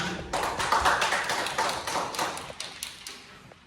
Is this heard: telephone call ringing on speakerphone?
no